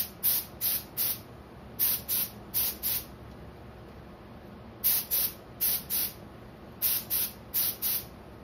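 Spray gun misting primer onto fishing lures in quick, evenly timed bursts, short bright hisses in groups of three or four with brief pauses between, close and fairly loud, no voices.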